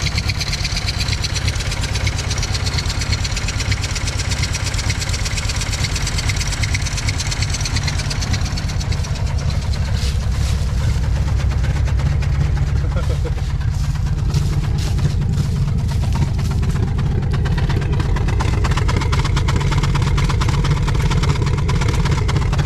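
A Chevy C10 truck engine with a broken exhaust idles roughly and loudly nearby, with a rattling, uneven exhaust drone that holds steady throughout.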